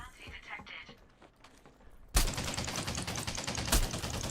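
Gunfire in the space game Elite Dangerous: a sudden loud burst of rapid automatic shots starts midway and keeps hammering steadily to the end, after a quieter stretch of faint clicks and a distant voice.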